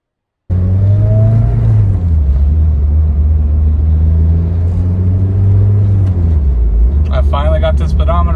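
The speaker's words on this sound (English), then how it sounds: "hopefully the car starts up right" A Matrix XRS engine catches after a brief crank and settles into a loud, close idle rumble that holds steady, with a faint higher whine near the end.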